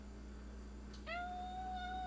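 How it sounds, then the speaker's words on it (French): A cat lets out one clear, drawn-out meow, close and fairly loud over a steady low background hum, with no talking. "Un chat qui vient nous miauler après."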